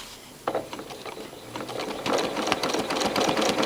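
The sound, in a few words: sewing machine free motion quilting fabric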